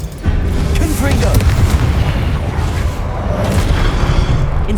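Confringo fire spell blasting statues in Hogwarts Legacy, a loud sustained rumbling boom that rolls on for several seconds, dense and close, with a voice talking over it.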